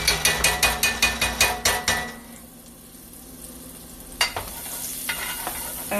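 Food frying in a skillet for shrimp and grits, a run of rapid, evenly spaced metallic taps that gives way to a quieter steady sizzle, then a sharp clank and a few more light knocks, with no speech.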